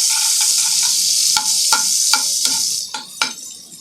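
Butter melts and sizzles on a tawa with a bright, steady hiss, and a spatula clacks against the pan every half second or so, close and loud, with no speech.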